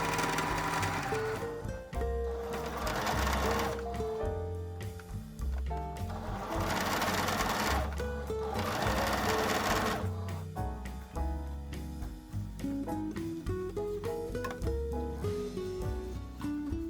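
A sewing machine stitches an understitch along the facing of a tote bag, running in several loud, rapid bursts with brief pauses between them.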